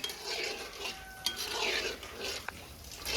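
Golden gulab jamun from instant mix frying in oil while being stirred with a ladle, a continuous close sizzle with swishing strokes and a few light metallic clinks, no talking.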